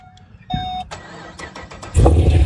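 An Audi R8 fitted with an aftermarket exhaust system starting up: a starter whir and chirp, a brief catch, then the engine fires into a loud, deep close-up idle.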